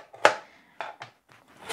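A kitchen knife slices a carrot into rounds about half a centimetre thick, giving four or five sharp, close chops on a board at an uneven pace with short pauses between, no talking.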